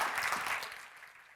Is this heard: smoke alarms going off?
no